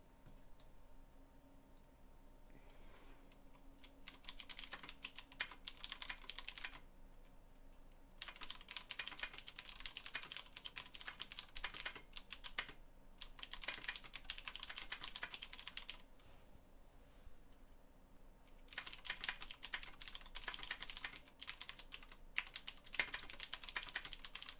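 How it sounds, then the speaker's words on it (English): Clattery bursts of typing on a loud, clicky computer keyboard, several stretches of rapid keystrokes separated by short pauses, close and steady with no talking. "me with my clickety clackety keyboard"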